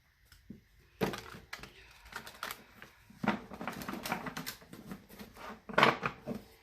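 A large tarot deck is shuffled by hand up close, with bursts of papery flicking and riffling and a few sharper taps of the cards between short pauses.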